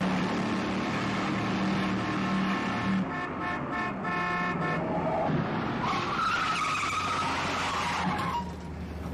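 The 1971 car chase from The French Connection plays with roaring engines, screeching tyre skids and honking horns, loud and continuous with shifting pitch as cars race through traffic.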